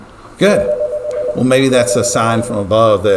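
Telephone dialing tones come through an open intercom in a school office setting, a short steady tone sequence mixed with overlapping conversation that carries on throughout.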